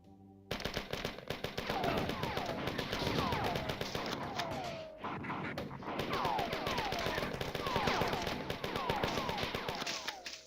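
The MA-75 assault rifle in the 1994 game Marathon fires in rapid, sustained automatic bursts, loud and close, with brief pauses between volleys and spent-casing clinks throughout.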